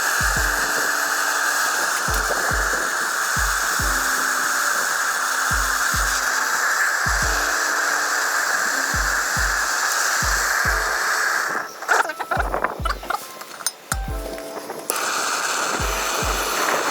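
Torch flame roaring in a steady broadband hiss while burning out rubber suspension bushings from the rear lower control arm and traction arm of a Lexus IS300, with regular low knocks and a burst of crackling near the end.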